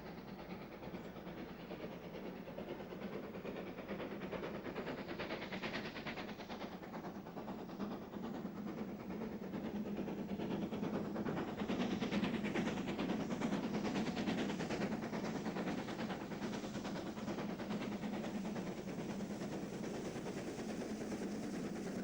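Great Western Railway steam locomotive on a loaded test run, a steady broadband rumble and hiss of a moving train with faint rhythmic rail clatter, continuous and building slightly louder midway.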